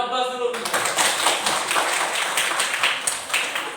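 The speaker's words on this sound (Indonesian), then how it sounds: "berikan aplaus dulu" Students in a classroom clap together in a brisk, even round of applause that runs for several seconds after a voice briefly speaks at the start.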